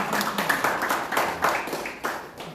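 An audience at a launch ceremony in Gwangju claps in a short burst of scattered applause, moderately faint, with individual claps audible.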